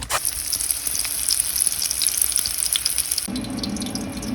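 Keto fried chicken crackles and sizzles in hot oil in a continuous busy hiss with scattered pops, then a lower, fuller tone takes over near the end.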